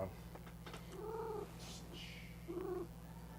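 A cat's murmuring trills and short meow-like calls, close by, over a steady low hum, as it gets into a jar of moonshine.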